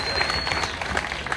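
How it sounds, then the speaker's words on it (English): Audience applause for a man being praised at a Ugandan political gathering, a dense steady patter of clapping with some crowd noise, moderately loud and continuous for a brief moment. "Please give him a round of applause."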